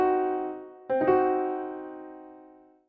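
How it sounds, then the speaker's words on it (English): A diminished triad sounded on a sustained, piano-like instrument, first a held chord, then a fresh attack near the one-second mark ringing out and slowly decaying, alone with no talking. "A diminished chord is just like a minor chord if you moved the 5th scale"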